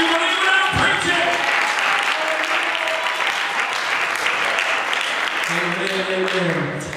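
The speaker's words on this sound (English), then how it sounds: "Clap your hands if you believe what I'm preaching." A church congregation claps hands in a sustained, lively burst lasting several seconds, mixed with raised voices and a tonal, sung or musical backdrop.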